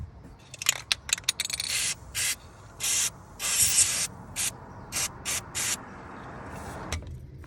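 Freeze spray hisses onto a seized drop link bolt during a suspension job, several short loud bursts with gaps between them, followed by a longer steady spray.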